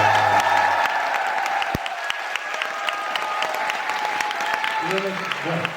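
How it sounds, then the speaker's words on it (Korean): A concert audience at an encore claps loudly and steadily, a dense wash of applause that carries on for several seconds while a voice speaks over it near the end. "큰 박수 좀 부탁드립니다."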